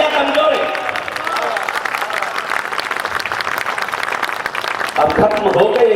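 Steady audience applause fills a crowded hall at a Tij festival poetry recital in Sirsaganj, dense clapping running throughout with a voice briefly rising over it near the end.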